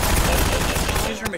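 Machine gun fire in the Half-Life video game, a dense continuous burst of rapid shots filling most of the moment before cutting off abruptly into a brief quieter tail.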